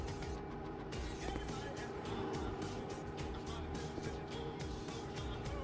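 A truck and other traffic roll past at a steady drone in Indian Car Simulator 3D, engine rumble and road noise holding level throughout with faint rhythmic pulsing, no talk over it.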